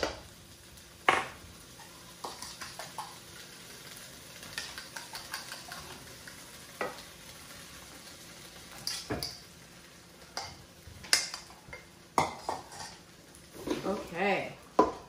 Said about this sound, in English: I'm gonna add in our eggs